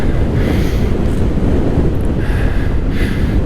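Strong wind buffets the microphone of a rider on an Amflow PL Carbon e-bike heading into a headwind, a loud, continuous low rumble with gusty surges throughout and no voices.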